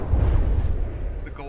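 Naval gun volley from the ship-combat game From the Depths, a dense rumbling boom of artillery fire sustained across the moment, fairly loud, with a voice talking over it.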